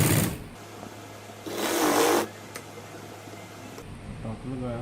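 Sewing machine stitching the front button placket of a gents kameez, with a louder burst of running stitches midway between quieter mechanical hum and ticking; a voice talks briefly at the start and end.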